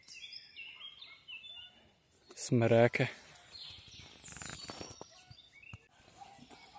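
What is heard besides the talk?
birds singing in forest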